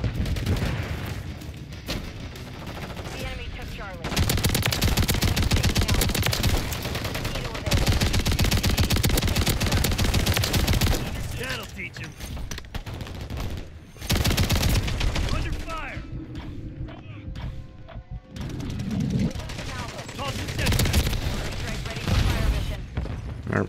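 Rapid bursts of automatic gunfire and explosions from a first-person shooter video game, loud and dense across the whole stretch, with a player's voice talking over the shooting.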